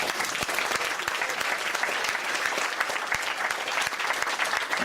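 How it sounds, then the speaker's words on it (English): A meeting audience at a 2011 right-to-protest gathering claps continuously, a dense, even wash of many hands close by with no pauses and no talk over it. "I'd like to donate the clap you've just done to Hannah and the organisers here"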